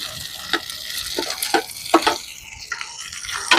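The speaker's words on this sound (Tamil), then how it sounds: "இப்போ தக்காளி பழம் வதங்குது." Chopped tomatoes sizzle and fry with already-softened onions in a hot pan for a Jaffna-style curry, with a steady close sizzle broken by several scraping stirs of a spoon.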